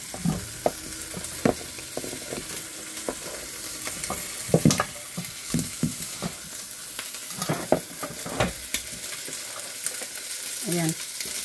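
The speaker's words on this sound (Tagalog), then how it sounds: "kung paano ko po niluluto yung aking gulay" Jackfruit vegetables with pork belly cooking in a pan in coconut cream, a steady sizzle with occasional stirring scrapes and clinks up close.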